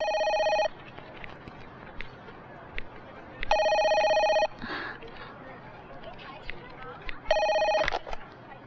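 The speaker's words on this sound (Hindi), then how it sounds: "हाँ राज फोन है" A telephone rings in three loud bursts spaced a few seconds apart, with people talking between the rings.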